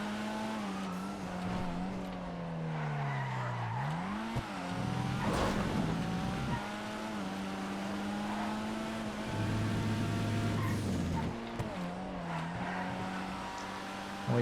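Futo GTX sports car racing in GTA FiveM, a loud sustained engine drone rising and falling through gear changes, with a dip and a sharp burst mid-run, close and continuous.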